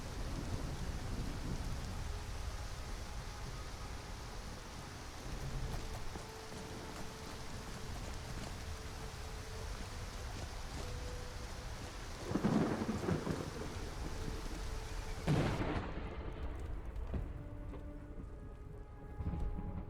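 Steady rain pours in the wilds of Skyrim with the Origins of Frost mod. A rumble of thunder swells midway, then a sharper, louder crack lands near the end, with no voices.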